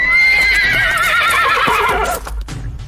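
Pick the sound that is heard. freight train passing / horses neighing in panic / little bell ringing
horses neighing in panic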